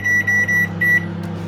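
A microwave oven hums steadily with a high beeping tone pulsing in several short bursts, close by, no voices.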